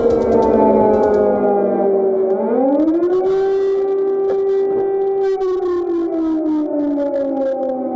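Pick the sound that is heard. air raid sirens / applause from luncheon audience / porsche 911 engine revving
air raid sirens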